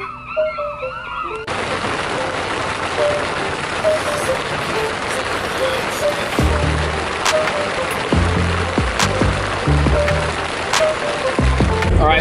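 Steady, dense rain pouring down on an Island Packet 38 sailboat with a constant hiss, along with low rumbling thumps and scattered sharper knocks.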